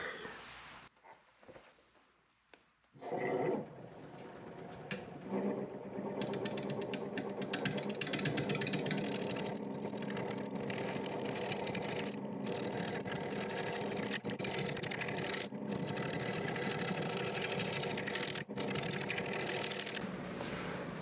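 A wood lathe turning a green ash bowl, a steady whirring hum that kicks in after a few seconds of quieter handling noises and then runs on continuously at moderate level.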